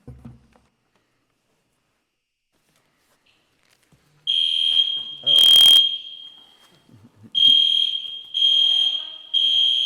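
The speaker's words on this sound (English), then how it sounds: "Yeah, fire alarm." A fire alarm goes off during an indoor commission meeting, a loud, piercing electronic tone sounding in repeated bursts after a quiet stretch, with brief faint talk in the room.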